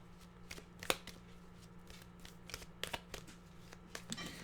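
Tarot cards are shuffled close by, quiet riffling and sharp snaps repeating at irregular intervals, with no talk over them.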